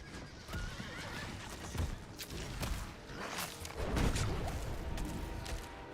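A horse neighs and its hooves clop in a video game, the whinnies rising over soft hoofbeats and thuds at moderate volume, with a louder burst of activity midway and no talk.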